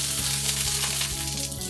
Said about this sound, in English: you hear that glorious sound of sizzling